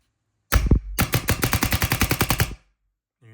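An Ego 11 paintball marker fitted with an LV2 solenoid fires one loud shot, then a rapid burst of about fifteen sharp cracks in quick even succession, close and alone before cutting to silence.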